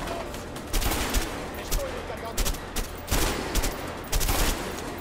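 Repeated bursts of gunfire in the action game A Way Out, several loud volleys at irregular intervals with quieter ambience between them.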